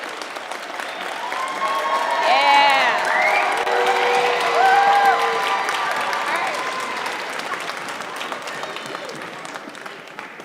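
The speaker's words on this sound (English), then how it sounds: "We're gonna clap for you one more time." Audience at a school strings celebration claps for sixth graders, a long swell of applause with cheers and a few high whoops, building then fading, with some voices mixed in.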